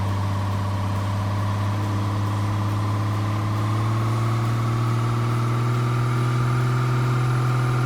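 A Scania DC13 truck engine in Euro Truck Simulator 2 runs steadily at 2000 RPM, a loud, constant low drone with a strong hum and no break or change throughout.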